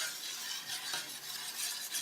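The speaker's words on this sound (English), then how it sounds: "Stir it, stir it, and stir it, and stir it." Food is stirred in a pot, a steady close hiss with gentle scraping swells, continuous and even for the whole stretch.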